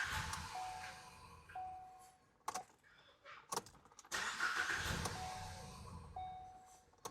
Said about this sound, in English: So you can see it's starting, but it's dying out because we have our mass airflow sensor disconnected.